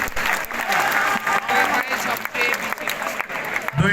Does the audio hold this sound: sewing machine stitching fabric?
no